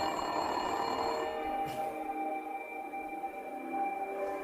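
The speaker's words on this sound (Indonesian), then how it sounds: "alarm dapur berdering yang dipencet dari atas kamar" An electric call bell in a kitchen rings continuously with a bright metallic tone, then stops, leaving a faint lingering hum in the room.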